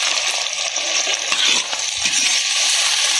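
Small onions and curry leaves fry in an oil-filled pan with green chillies, hissing steadily with a bright, continuous sizzle and occasional stirring scrapes, close and loud, with no talking.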